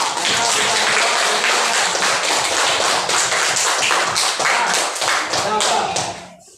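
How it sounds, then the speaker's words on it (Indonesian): A classroom group claps for group two, a loud, dense burst of many hands close by that keeps up steadily for several seconds before trailing off, with some voices mixed in. "tepuk tangan kelompok dua"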